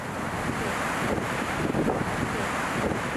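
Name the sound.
ocean waves and wind on a winter beach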